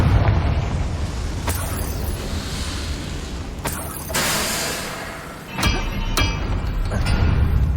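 A blasting fire spell goes off in the Hogwarts Legacy video game. Several loud explosive booms and cracks hit one after another over a rumbling low roar, with a brief lull before the final bursts.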